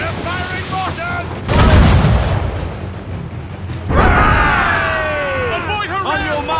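Heavy mortar blasts boom in naval combat in Assassin's Creed Rogue, two loud, deep explosions with lingering rumble, while voices shout over the battle between the impacts.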